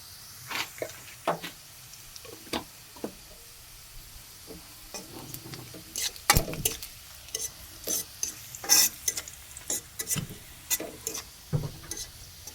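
Cumin seeds added to frying onions in a pan for a Bengali beef curry, giving a soft steady sizzle under repeated sharp clinks and scrapes of a spoon stirring against the pan.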